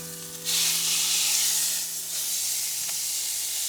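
A pork roast sears in a hot pan, giving a loud, steady sizzle and hiss that flares up, eases slightly, then cuts off abruptly. It is heard close and alone, with no voices.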